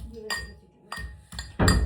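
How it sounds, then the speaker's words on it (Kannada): Ginger and garlic being crushed in a kitchen, three or four sharp, close pounding knocks with a clinking ring, spaced unevenly and growing heavier at the end. "ಚೆಚ್ಚಾಕ್ತಾ ಇದ್ದೀನಿ."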